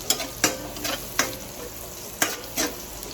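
Onion and garlic frying in oil toward golden brown give a steady close sizzle, with a handful of sharp spatula strokes against the pan at uneven intervals.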